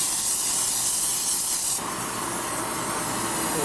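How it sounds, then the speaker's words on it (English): Welding torch on a 1955 Panhead cylinder head fed too much gas pressure for its hose size, giving a loud continuous rushing hiss that holds throughout and shifts in tone partway. "When the torch did that, we got a little bit too much pressure on the torch for the size of the hose."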